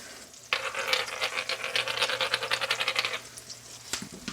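A canned smoked pork chop is seasoned with salt and pepper and cooked briefly in a pan: a burst of close sizzling and scraping starts suddenly, crackles busily for a few seconds, then cuts off.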